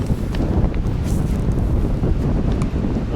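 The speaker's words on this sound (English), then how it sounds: "It's windy." Strong wind buffeting a microphone at a wild camp in the Pentland Hills, a loud, constant low roar with gusty rumble and no pauses.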